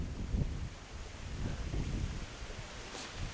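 Wind blows steadily outdoors with soft, low buffeting gusts against the microphone and a faint rustle, quiet and continuous with no talking.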